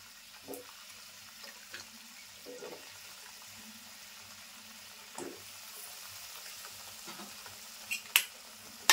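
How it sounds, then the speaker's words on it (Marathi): Cut drumstick pods and potato pieces tumble into a pan with a little water, giving soft scattered clatters and stirring scrapes over a faint, steady simmer, with a few sharper knocks near the end. "आता मी ना हे शेंगा बटाटे कापून ठेवलेत ते टाकते."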